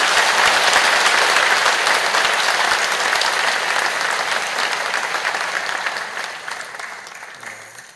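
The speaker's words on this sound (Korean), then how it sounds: "여러분 크게 박수로" A church congregation claps loudly for visiting missionaries at a Korean Sunday worship service. The applause is dense and sustained, then gradually fades toward the end.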